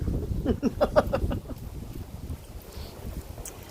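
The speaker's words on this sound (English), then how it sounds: "Interestingly, as I say that, the wind picks up." Wind blowing outdoors, gusting against the microphone as a rough, low rush that is strongest at first, then eases into a softer steady blow.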